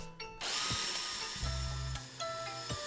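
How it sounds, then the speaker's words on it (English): A power drill bores pilot holes in a 2x4 on a table, giving close, loud bursts of high whirring and a deeper grinding as the bit bites into the wood, with short pauses between runs. "And we're just doing pilot holes"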